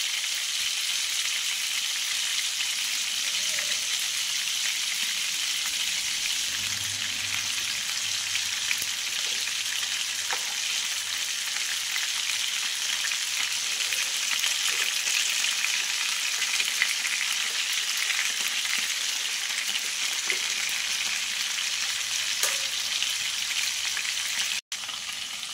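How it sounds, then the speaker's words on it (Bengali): Kebabs fry in a hot pan with a steady, bright sizzle that holds even and close for the whole stretch, with only faint clinks and no talk. "এবারে একে একে কাবাবগুলো দিয়ে দেব। লালচে করে ভেজে নেবো।"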